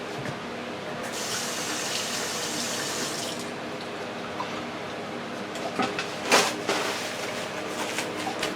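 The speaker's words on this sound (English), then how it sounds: "let me wash my hands" Kitchen tap water runs steadily as hands are washed, a constant close hiss with a few louder splashes and clatters near the end, no one talking.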